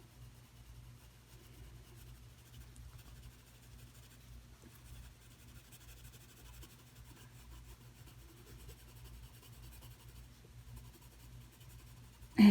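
Colored pencil strokes on paper in a drawing book make a faint, steady scratching and rubbing close by, continuing unbroken with a brief louder knock at the very end.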